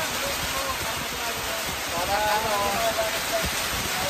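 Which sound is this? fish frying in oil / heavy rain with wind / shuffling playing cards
heavy rain with wind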